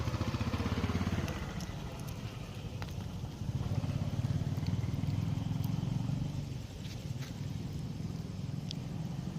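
A motorbike engine drones steadily while riding, a close low rumble throughout with faint crackles, no voices.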